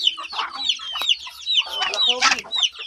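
A duck calls in a rapid, close run of high, chirpy notes that continues without a break.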